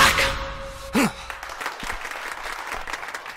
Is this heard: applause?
yes